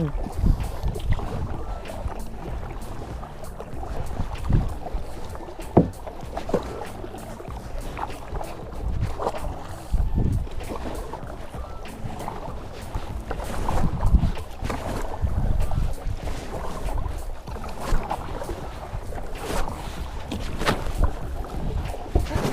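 A rowing boat is paddled across open water, with irregular splashes and dips of the paddle over a wash of water and wind noise, close by and fairly steady throughout.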